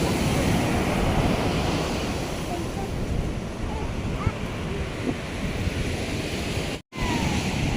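Sea waves roll in at Perupalem beach as a loud continuous surf roar mixed with gusting wind buffeting the microphone, constant throughout with one brief cut near the end.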